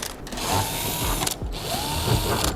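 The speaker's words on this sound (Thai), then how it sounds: "นี่ฮะหมุนออก น็อตตัวนี้นะครับ" Nuts being turned off the casing of a Hatari AC-classic steam fan with a power driver, a continuous close whirring with brief pauses and a couple of rising motor pitches, no talking.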